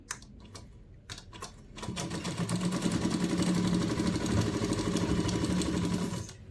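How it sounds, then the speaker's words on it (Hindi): Sewing machine stitching folded doubled cloth for a small doll outfit, a few light taps at first, then a steady close rattling run that holds for several seconds before stopping. "तो मैं यहाँ से सिलाई लगा लेती हूँ।"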